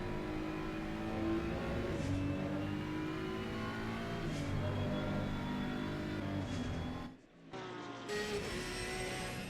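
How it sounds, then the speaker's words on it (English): GT3 race car engines at Hungaroring in the Assetto Corsa Competizione game, a steady revving drone with rising and shifting gear tones, a brief dip near the end, no talk. "So loud you can hear the engine."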